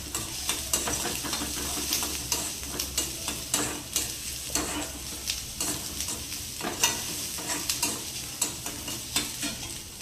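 Manchurian being stirred in a hot pan over a full flame, with a steady frying sizzle and repeated scraping strokes of a spoon in an even rhythm, close up and with no talking.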